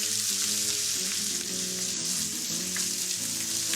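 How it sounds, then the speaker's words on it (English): Onions and green and red capsicum fry in olive oil in a pan, giving a steady, close sizzle that holds for the whole stretch, with soft tonal music underneath. "I'm just gonna get going with a little bit of olive oil and onions, some green and red capsicum"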